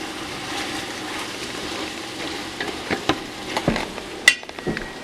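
Vegetables for Brunswick stew simmering and caramelizing in a pot, a steady soft sizzle with a few louder pops and stirring scrapes near the end, no talk.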